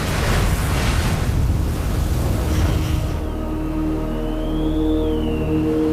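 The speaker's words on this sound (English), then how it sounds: "The second one went right to the wing root of the MiG-21 and exploded." A missile detonates against the wing root of a MiG-21 in an air-to-air engagement: a loud, broad roaring blast fills the first seconds, then a sustained engine-like drone with steady tones and a rising-falling whine carries on beneath.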